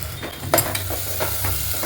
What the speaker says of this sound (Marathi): मसाला छान तळून झालेला आहे.